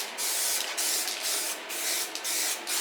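Aerosol primer sprayed onto the bodywork of an old Ford Escort Mk2 rally car under restoration before welding, heard as steady close hissing bursts separated by short pauses.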